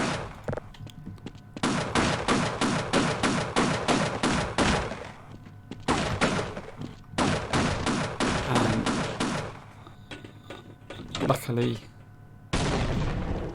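A big turret firing in Half-Life, long loud rapid-fire bursts of repeated shots broken by short pauses, with someone talking between and over them.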